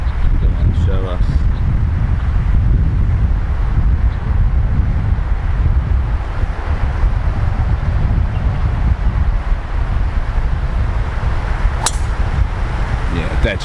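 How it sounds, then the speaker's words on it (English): Strong wind on a golf course at Dubai Creek Golf Club buffets the microphone in a steady, loud rumble, with gusting roar throughout and a brief voice heard near the start. "quite windy today and it's into the breeze here"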